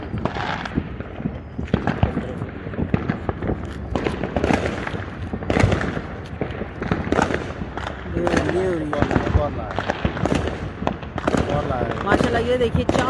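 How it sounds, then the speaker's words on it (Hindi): Fourth of July fireworks bursting all around outdoors, a dense run of sharp pops and crackles in close succession, some near and loud, others farther off, with people talking over them. "ये देखिए चारों तरफ से आतिशबाजी हो रही"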